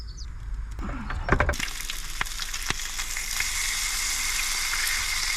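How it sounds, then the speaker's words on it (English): Bacon and egg frying on a ridged griddle pan at a beach car-camping spot, with a loud, steady sizzle that starts after a few clatters of handling and carries on without a break. "just bacon and egg cob, you know, but I'm going to do it on the ridge so it don't stick to the pan and it cooks better"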